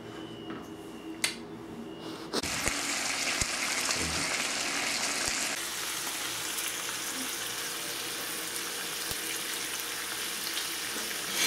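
Thick-cut bacon frying low and slow in a pan over a low flame, a steady broadband crackle and sizzle that rises abruptly and holds, with a few sharp pops and clicks scattered through.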